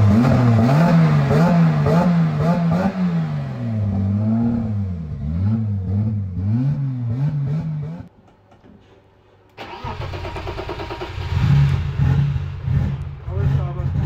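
A car engine poorly tuned on ethanol revs hard in loud rising and falling bursts, cuts out briefly to a low idle, then restarts and roughly revs again close by.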